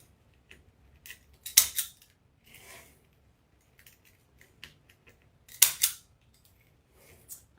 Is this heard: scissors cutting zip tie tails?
yes